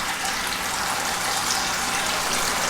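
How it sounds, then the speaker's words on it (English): Water siphoned out of a fish tank pours steadily into a 5-gallon bucket, a close, continuous gushing rush with no pauses. "We're going to siphon out some of the water and put it into a 5-gallon bucket."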